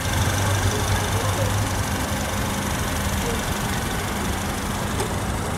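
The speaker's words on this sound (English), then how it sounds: "Four-cylinder turbocharged engine just purring away here" A 2010 Acura RDX SH-AWD's turbocharged inline four-cylinder engine idles steadily with a low, even rumble that stays constant throughout.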